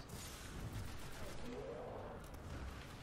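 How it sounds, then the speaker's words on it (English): Gunfire in the video game Destiny during a firefight: a dense, continuous wash of distant-sounding shots and game noise, fairly quiet overall and with no clear talk. "I don't know who's shooting me right now."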